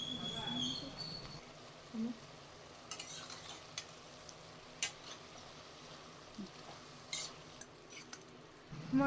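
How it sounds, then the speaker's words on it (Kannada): Tomato puree with chilies fries in a pan for veg fried rice, a faint, steady sizzle broken by occasional scrapes and clinks of a spoon stirring, close and quiet throughout. "ಟೊಮೆಟೊನ ಪೇಸ್ಟ್ ಮಾಡಿ ಆ ಪ್ಯೂರಿನ ಇದಕ್ಕೆ ಹಾಕ್ಕೊಂಡು ಚೆನ್ನಾಗಿ ಫ್ರೈ ಮಾಡ್ತಾ ಇದ್ದೀನಿ"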